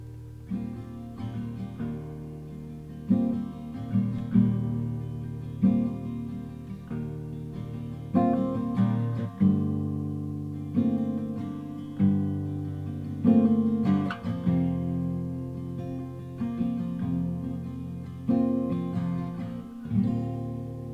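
Acoustic guitar strumming a simple three-chord intro, steady rhythmic strums ringing out close and clear, repeating through the passage with no voice over it.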